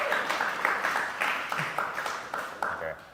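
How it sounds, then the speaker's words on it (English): Audience applause at a startup talk, a modest crowd clapping steadily with a few sharper claps standing out, moderately faint and continuous throughout. "that's worth a round of applause"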